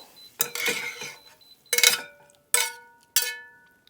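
Cooked chorizo scraped from a pan into a bowl: four distinct metallic clanks and scrapes of utensil on cookware, spaced out and close, with no one speaking.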